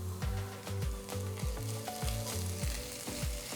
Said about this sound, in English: Saute the onions till they are a nice golden brown color.